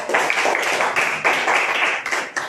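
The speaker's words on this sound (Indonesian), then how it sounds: "Tepuk tangan buat Yosua" A classroom of students clapping for a classmate, a loud, close burst of brisk group clapping in slightly uneven rhythmic waves, with no talk.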